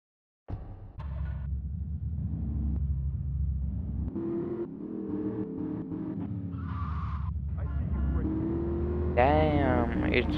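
A car in the video game GTA 3 rumbles and revs steadily, with rising engine tones and a tire squeal near the end, while a person talks over it.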